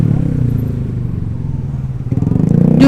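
A Yamaha Mio Gear scooter is ridden, its engine giving a close, steady low putter with a rhythmic pulse, rising in pitch and loudness toward the end as the rider speeds up.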